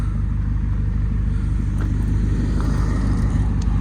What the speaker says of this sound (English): And it's got the sporty exhaust. It sounds pretty mean.